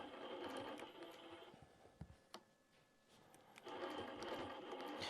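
A quilting machine stitching along a straight edge template on a quilt, a steady close whirring hum that runs, drops away briefly with a few small clicks, then starts up again.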